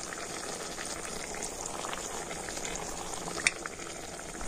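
Pitha dumplings deep-frying in hot oil make a steady, dense bubbling sizzle, close and even throughout, with one brief clink near the end and no voices.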